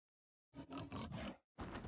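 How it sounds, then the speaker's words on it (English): Short snarling roars from an attacking wolf in the video game Wartales, two loud bursts separated by a brief pause, heard alone. "Wolf goes in, bites somebody's face off."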